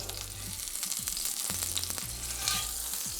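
Steady sizzling and crackling of sesame-crusted tuna searing in a hot pan, with a few soft clicks and scrapes, no talking.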